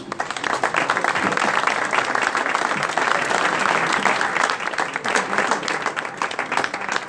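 Loud, sustained applause from a large crowd at a CGT trade union rally, dense and continuous clapping throughout.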